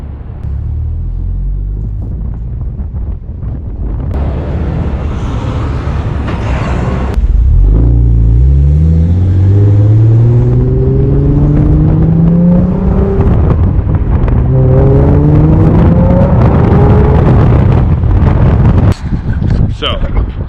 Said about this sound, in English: here's some exhaust note footage for you